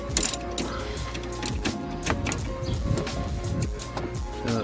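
Ratcheting clicks from a pivot-head ratchet spanner used during an anti-roll bar replacement on a 2010 BMW 525d, a rapid, uneven series of close mechanical clicks and rattles running throughout.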